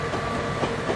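A train in the 3D Railroad Master railway game rolls steadily over a track switch, a continuous rumbling clatter of wheels on rails with faint rhythmic clicks, close and fairly loud.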